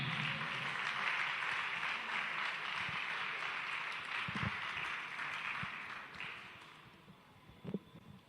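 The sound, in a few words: audience clapping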